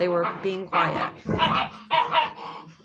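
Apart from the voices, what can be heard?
dogs barking and whimpering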